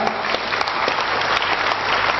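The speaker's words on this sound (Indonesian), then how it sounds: "Tepuk tangan untuk semuanya" Audience applause at an Islamic lecture, steady dense clapping from a crowd sustained throughout without a pause.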